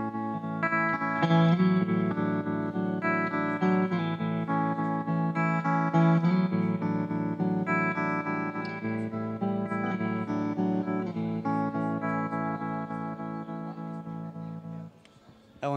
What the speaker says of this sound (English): Let me give you just a small taste of the tremolo, which is also amazing sounding.